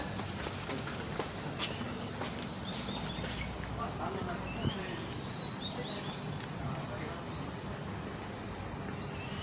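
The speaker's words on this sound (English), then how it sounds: "You can hear birds chirping." Birds chirping in a quiet spot just off a main road: scattered high, thin chirps and short sweeping calls come and go over a soft, steady outdoor background hiss.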